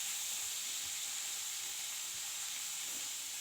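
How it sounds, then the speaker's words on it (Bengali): Cauliflower frying in hot oil in a pan, a steady, fairly quiet sizzle and hiss running evenly throughout with no talking. "দিয়ে লালচে করে ফুলকপিটা ভাজা করে নেব।"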